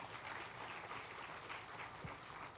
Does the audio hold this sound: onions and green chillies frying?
no